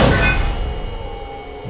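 A door shuts in an animated Backrooms presentation. A single heavy impact rings out with a long, echoing decay over a steady electrical hum.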